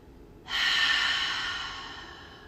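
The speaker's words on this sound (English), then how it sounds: "Exhale a big breath out." One long, loud exhale during yoga practice, a breathy rush that begins abruptly, stays close and fades slowly over about two seconds.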